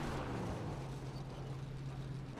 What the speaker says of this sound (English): That is the sound of a very broken engine, unfortunately.